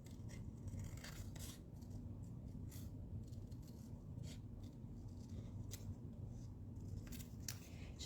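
Scissors cutting card stock along a line for a 3x3 greeting card, a series of close, crisp snipping strokes at an irregular, careful pace over a low background hum, with no talk.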